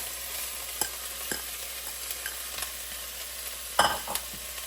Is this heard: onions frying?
yes